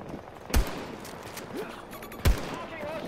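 In a Western-themed shooting video game, two loud, sharp gunshots ring out about two seconds apart over a low, busy game background.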